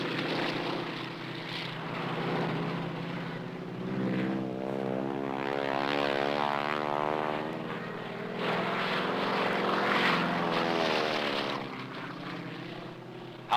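A propeller airplane drones steadily overhead, its engine pitch rising and falling as it passes, loud and continuous with no voices.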